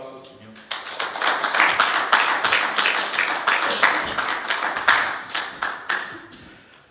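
Church congregation clapping loudly and steadily, a crisp, uneven run of many close hand claps that swells and then tapers off, with voices calling out underneath.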